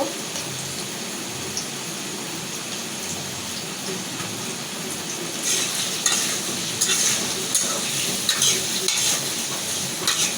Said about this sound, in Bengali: আলুটা আমি একটু লাল লাল করে ভাজে উঠায় রাখবো